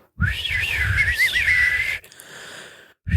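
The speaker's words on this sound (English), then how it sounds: "It just sounds like wind outside of the house." A breathy, raspy whistle wavers up and down over a couple of seconds, followed by fainter airy hissing and a brief pause.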